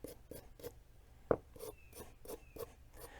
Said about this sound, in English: I'm just using the stainless one here because it's more aggressive and it cleans it faster